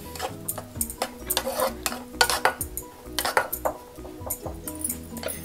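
Palak paneer mixed in a pan: a quick run of close, rhythmic scraping and clinking strokes from a spoon against the metal pan, steady and busy throughout, with no talk.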